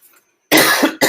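A teacher coughs twice, loud and close: a long harsh cough, a short pause, then a shorter one.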